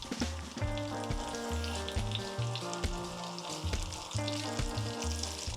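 Caramel sizzles and bubbles in a frying pan, a close crackling hiss with rhythmic low thumps beneath it, steady throughout without speech.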